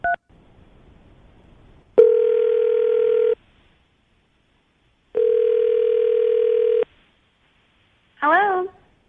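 A telephone call rings out on a radio show, with two long ringback tones separated by silence, then a brief voice answering at the end.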